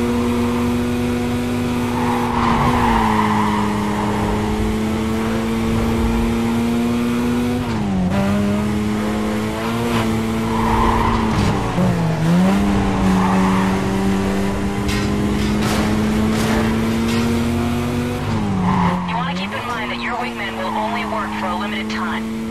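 Race cars in Need For Speed: Carbon, engines droning steadily and rising and falling as they shift, with the occasional tire skid, all running under someone talking throughout.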